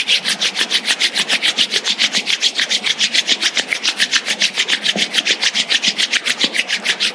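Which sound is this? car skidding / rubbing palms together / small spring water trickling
rubbing palms together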